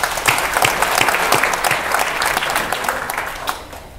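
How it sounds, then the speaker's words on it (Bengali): An audience claps together in sustained, dense applause at an official ceremony addressed by the Chief Adviser, Dr. Yunus, loud and close before tapering off near the end. "তাদের জন্য আমরা একটা হাততালি দিই"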